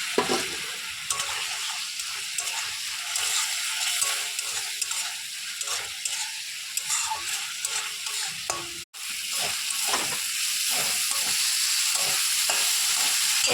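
Spice masala frying with potatoes in a pan, a steady close sizzle with repeated scraping stirs and a brief break midway.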